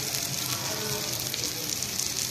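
Shami kebabs frying in a pan in a home kitchen, with a steady close hiss and crackle of oil continuing without break.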